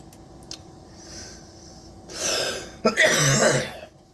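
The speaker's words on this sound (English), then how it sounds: "That means you should be able to hear me coughing and all." A person coughs and clears their throat in two rough bursts near the end, close and fairly loud, after a quiet stretch with a few faint clicks.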